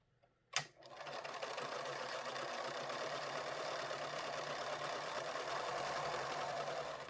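A sewing machine chain-pieces quilt blocks for a star scrap quilt: a sharp click, then a steady, fast, even mechanical whirr that runs on without pause, close and alone.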